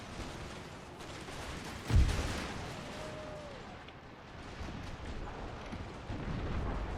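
Guards open fire on cavalry in the Empire video game: one sharp, loud shot cracks out, then a low rolling rumble of battle continues with no voices.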